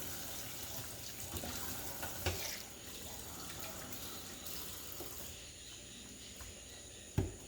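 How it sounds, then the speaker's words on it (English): Tap water running over a packet of ground beef in a kitchen sink, a soft, steady hiss of flowing water with a couple of brief knocks and clatters, quiet and close. "Try to rinse it out so it don't call flies."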